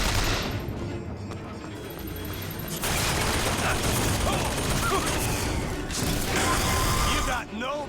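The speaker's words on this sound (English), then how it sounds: "Definitely shooting that guy right between the legs." Gunfire in Bioshock Infinite, fired at an enemy: loud dense bursts and mechanical clatter fill most of the stretch, with a sharp break near the end and a voice talking over it.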